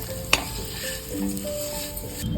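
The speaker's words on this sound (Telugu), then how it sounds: "ఆ కొంచెం నేతిలోనే ఈ అటుకులు కూడా మనం వేసి ద్వారగా వేపుకోవాలి." Flattened rice (poha) frying in a little ghee on low heat is stirred in a pan, giving a soft, continuous sizzle with a sharp scrape or tap near the start and quiet stirring throughout.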